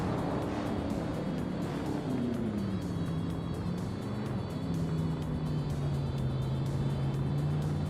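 A 1965 Lamborghini 400 GT in a racing video game drones steadily with a continuous engine hum whose pitch slides down and then levels off, loud and unbroken, with no voices.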